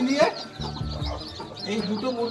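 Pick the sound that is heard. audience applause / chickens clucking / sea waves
chickens clucking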